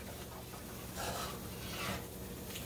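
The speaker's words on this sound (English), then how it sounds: "Now, you want this to get brown. Keep stirring." Flour being stirred in a pan to brown for gravy for smothered cube steak, a steady scraping and rubbing of the spoon against the pan, close and continuous with no talk.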